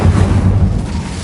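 Incendio fire spell cast in the Hogwarts Legacy video game, a loud, low, rumbling burst of flame that holds steady for about a second before easing slightly.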